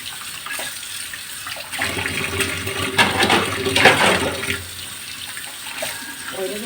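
Tap water runs into a kitchen sink during dishwashing, a steady splashing rush that swells in the middle with clinks of dishes, moderately close and with no talk.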